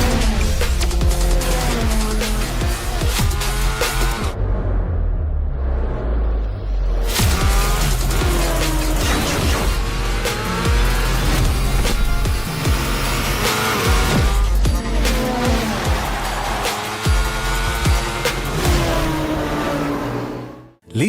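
Advertisement for the 2025 TVS Apache RTR 204V motorcycle, with loud engine revs and roaring acceleration layered over music, broken by a brief near-silent pause before the sound returns and runs to the end.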